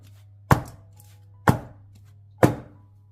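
An eggless chocolate cake batter pan is rapped on a surface three times at about one-second intervals, each a sharp, close knock that fades quickly, with a low hum beneath.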